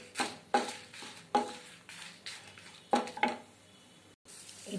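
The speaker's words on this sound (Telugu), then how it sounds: "ఒక 15 ఎండు మిరపకాయలు వేసుకుంటున్నానండి నేను వేసుకొని బాగా వేపుకోవాలి" About fifteen dried red chillies frying in hot oil in a pan for gongura chutney, with repeated sharp scraping clatters of a spoon stirring against the vessel over a soft background sizzle.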